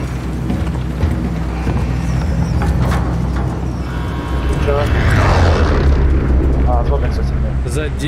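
A massive explosion destroys Verdansk in a video game, rising as a deep rumbling boom that swells midway through over a continuous low roar, with people talking over it.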